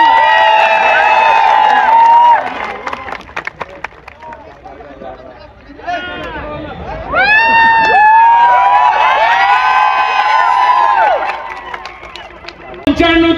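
A welcoming political rally crowd at a Shivswarajya Yatra gathering in Jamner claps, cheers and whoops in loud bursts, with voices shouting over the applause and a brief lull in the middle before the noise swells again.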